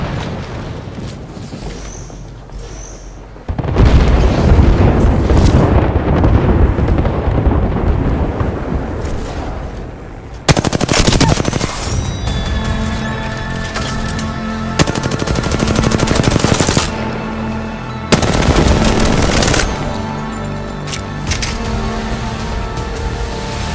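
Loud, sustained machine gun fire in the video game Apex Legends, continuous heavy bursts with booming impacts and a few sharp breaks, up close and dominating throughout.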